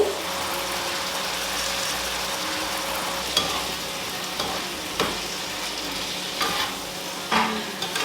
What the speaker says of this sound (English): So let's add the fried gizzard now.